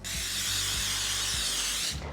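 Cooking spray hisses from an aerosol can onto a baking pan in a home kitchen, one continuous close burst lasting about two seconds before cutting off.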